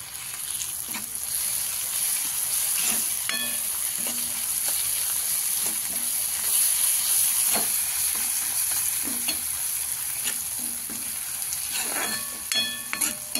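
Garlic and green chillies sauté in a pan, a steady sizzle broken by repeated scraping strokes of a spatula stirring them at a relaxed, irregular pace.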